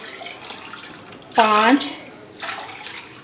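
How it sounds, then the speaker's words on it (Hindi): Plain water poured by the glass into a pot for mutton chana pulao, one short, loud gush of liquid splashing in, while a voice counts softly beside it. "ये मैंने सादा पानी एक्स्ट्रा जो इसमें जाएगा वो सादा पानी मैंने ले लिया।"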